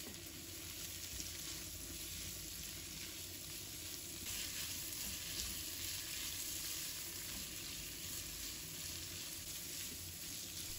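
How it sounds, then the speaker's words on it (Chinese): Wood ear mushroom, carrot and green beans stir-fried in a wok, a soft continuous sizzle with quiet tossing, fairly faint and steady with no voices. "继续翻炒"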